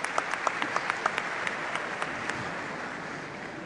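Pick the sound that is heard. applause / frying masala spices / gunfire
applause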